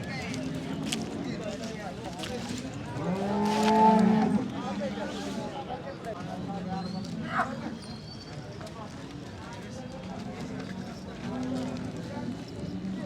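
Holstein Friesian cows moo at the Sangola cattle market, with one long, loud low moo standing out near the middle. People talk throughout amid the general hubbub of the livestock market.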